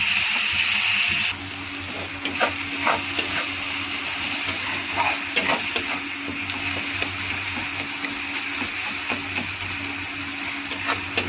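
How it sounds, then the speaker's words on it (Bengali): Tomatoes with salt are stirred in a frying pan, giving a steady hiss of cooking overlaid with repeated scraping clicks of a utensil against the pan. "লবণটা দিয়ে এখন সুন্দর করে নেড়ে চেড়ে নিয়ে টমেটোটা ছেড়ে দেবো।"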